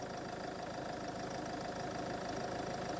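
A Land Rover Freelander 2 engine runs at a steady idle, a constant even hum close by with no talking, on a car with recurring fault lights.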